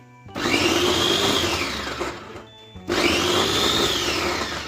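An electric vegetable chopper whirs loudly in two bursts, a steady high motor buzz with chopping rattle, pausing briefly in between before starting again up close.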